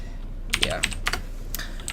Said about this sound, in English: Sorry about typing on video.